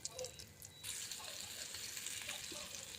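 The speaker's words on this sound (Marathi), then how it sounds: "आता आपण कबाब फ्राय करण्यासाठी घालणार आहे" Green pea kebabs shallow fry in a pan, a quiet, even sizzle that grows slightly after a moment and carries on steadily without speech.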